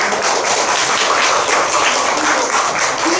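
Dense, loud audience applause at a symposium on regional commemoration, women, and cultural geography and gender, brief sustained clapping from a crowd with no speech.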